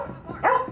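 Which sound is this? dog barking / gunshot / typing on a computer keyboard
dog barking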